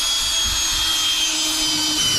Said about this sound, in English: I am drilling a hole in the floor.